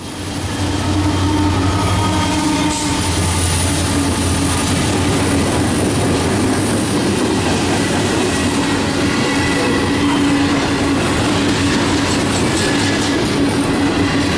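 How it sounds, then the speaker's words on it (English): A long freight manifest train led by three locomotives rumbles steadily past a crossing close by in Toledo, Ohio, wheels clattering and droning continuously with a faint squeal now and then. "It was a three engine leading a manifest train"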